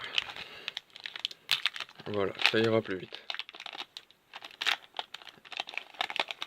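A Pokémon Sun and Moon booster pack torn open, with crinkling foil and a short burst of tearing, under intermittent talk.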